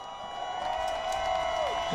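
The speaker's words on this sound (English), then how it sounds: "Round of applause for Jonathan Castro" Spectators at a Formula Drift Orlando pro round cheer and applaud a podium finisher, a moderate, fairly distant crowd roar with whoops and a tonal sweep over it.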